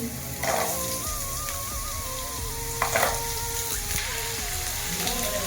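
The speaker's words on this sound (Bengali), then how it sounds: "তেলটা আমার গরম হয়ে গেছে। ডুমো ডুমো আলুগুলোকে কেটে রেখেছিলাম, সেগুলোকে দিয়ে দেব।" Diced potatoes fry in hot mustard oil with a steady, close, hissing sizzle, swelling briefly in a couple of spots over a faint tonal hum, with no talking.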